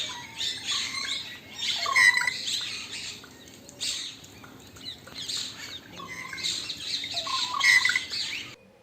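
Birds at the Narsinghgarh Chidi-Kho Wildlife Sanctuary let out repeated harsh squawks and chirps in two clustered bursts, fairly close against quiet rustling, with no one speaking.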